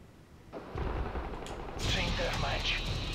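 Gunfire in Call of Duty MW3 during a team deathmatch with AK-47 and MK14 rifles: loud, dense bursts of shots after a brief lull, continuing steadily to the end amid game sound.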